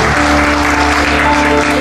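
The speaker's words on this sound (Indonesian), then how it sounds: "Boleh kita beri tepuk tangan yang dahsyat bagi Tuhan." A church congregation at a Sunday service claps for God, loud, steady applause over sustained music with held tones running underneath.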